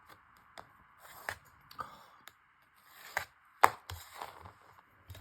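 Ripple deckle-edge scissors cut paper in a series of sharp, close snips, irregularly spaced with short gaps, fairly quiet with no talk.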